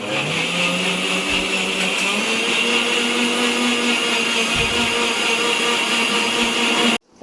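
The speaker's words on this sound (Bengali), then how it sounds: "ঘোরাচ্ছি যেহেতু অনেক সর আছে এর মাখনটা বেরোচ্ছে" Kitchen blender churning cream into butter for homemade ghee, a loud steady whir that runs unbroken for about seven seconds and then cuts off abruptly.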